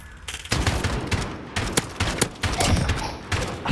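Rapid gunfire bursts in Call of Duty: Modern Warfare, loud close automatic shots and thumping impacts in repeated volleys with brief gaps between them.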